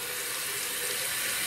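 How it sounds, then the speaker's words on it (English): Very hot water runs steadily from a tap into a shaving scuttle, a continuous close hiss and splash with no talk over it. "so I'm gonna turn on the water."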